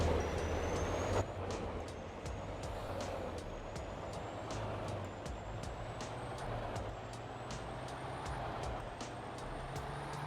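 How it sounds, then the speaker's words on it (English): Cummins diesel truck engine in Farming Simulator 22 idles and rumbles steadily, with a faint high whine and periodic clicking ticks over the low drone. "You're hearing the sound of that Cummins right now."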